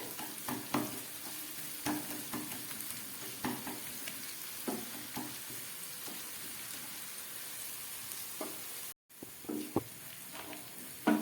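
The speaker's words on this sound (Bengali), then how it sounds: "হাই ফ্লেমে এই পেঁয়াজটাকে অনবরত নেড়ে একটা হালকা ব্রাউন কালার করে নিতে হবে" Onions are stirred and fried on high flame, a soft steady sizzle broken by regular scraping and tapping of a spatula against the pan.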